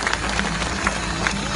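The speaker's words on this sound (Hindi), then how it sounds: "साथियों 20 साल का अवार्ड है, तालियां जोरदार होनी चाहिए" Dense, steady applause from an award ceremony audience greeting a 20-year award, a continuous wash of many hands clapping at even loudness throughout the short stretch.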